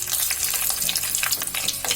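Chillies fry in hot oil with mustard seeds, cumin and dal, a dense, close crackling sizzle with quick spitting bursts and no voices.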